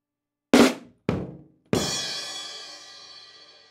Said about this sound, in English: there's a bass drum that comes in, and then a crash with the bass drum